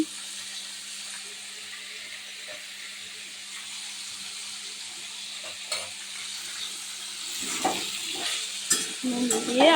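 Pumpkin pieces sizzle steadily in a hot pan, a constant bright frying hiss, with scraping stirs growing louder and busier toward the end, close up and with no voices.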